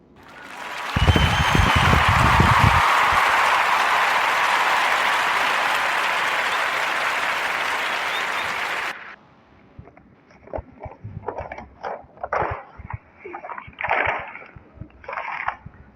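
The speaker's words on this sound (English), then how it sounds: "we're going to give a Warm Narrative Podcast round of applause" A round of applause from an audience swells up loud and dense for about eight seconds, then cuts off abruptly, leaving quieter scattered sounds and faint noises afterward.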